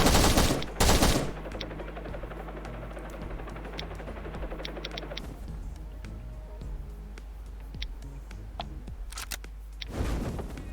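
Rapid automatic turret gunfire rattles in long bursts in the video game Last Island of Survival, with louder blasts at the start and end over a constant electronic hum.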